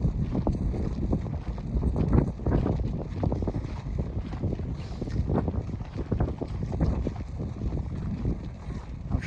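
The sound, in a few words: strong wind on Mt. Snowdon summit trail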